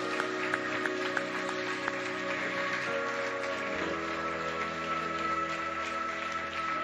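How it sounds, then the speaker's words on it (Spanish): Church congregation applauding during a Spanish-language worship service, a steady wash of clapping with a low sustained tone underneath, moderately loud and continuous throughout. "Denle un aplauso al Señor,"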